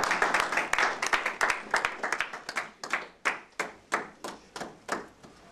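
A church congregation claps in praise of the Lord, many hands sounding together at first, then thinning into distinct, rhythmic claps, loud and near, with no talk.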